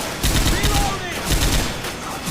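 Rapid bursts of gunfire from the Left 4 Dead 2 VR video game, repeated shots clustered in quick volleys at close range, with faint voices underneath.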